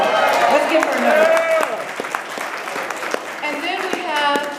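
A senior center audience applauds steadily, its clapping loud and close, while voices and crowd chatter continue over the top.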